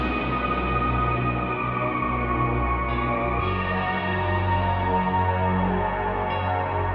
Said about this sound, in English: we're putting on Fruity Reverb and Parametric EQ2 for this low pass filter